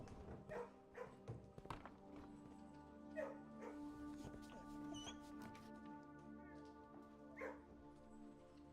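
Dogs in a kennel room in the Blue Prince video game yip, whimper and bark in short, faint bursts over a steady low game hum and music.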